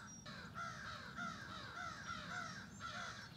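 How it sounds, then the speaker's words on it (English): Crows cawing repeatedly in a series of harsh calls, moderately distant, over a steady background hiss with no talking. "There are crows."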